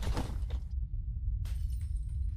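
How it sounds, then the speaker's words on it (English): A pane of glass shatters out of sight in a doll horror video game, a sharp crash followed by a trailing tinkle of falling shards over a low, steady droning hum. "I heard a glass break in there."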